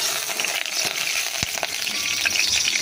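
A drop of water hits hot cooking oil in a pan, bursting with a sharp pop amid a continuous close sizzle and light crackling, with no speech.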